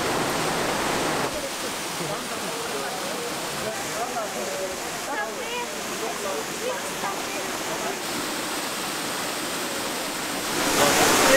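A small waterfall spilling into a clear lake partway along a hiking trail makes a continuous, fairly close rush of water that holds steady and swells louder near the end.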